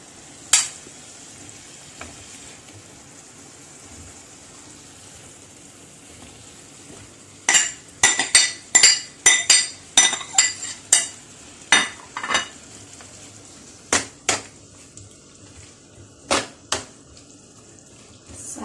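Onion with red and green peppers in a pan for paella: a quiet sizzle for several seconds, then a run of sharp scraping strokes as a utensil stirs the vegetables, with a few more strokes near the end.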